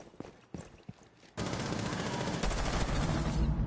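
Gunfire in the video game Rainbow Six Siege: a few sparse shots, then a sudden dense, continuous burst of rapid automatic fire that stays loud and close to the end.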